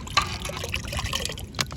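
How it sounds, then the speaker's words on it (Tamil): Water is poured into a nungu palm fruit sarbath, a short continuous splashing, trickling pour heard close up without talk. "அப்போ தண்ணி ஊற்றா சரி"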